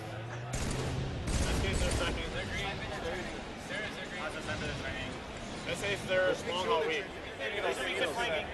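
Sniper rifle gunfire and rapid shooting from a professional video game match at MLG Columbus 2010 crackles in scattered bursts, mixed with game noise under continuous commentary from casters.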